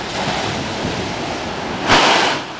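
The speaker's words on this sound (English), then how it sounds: "Hence the large amount of air that gets bursted up when the waves crash." Ocean waves crash into a coastal blowhole along West Cliff Drive, a loud, close, constant roar of surf and wind that swells into a sharper burst of rushing air and spray near the end, without talking.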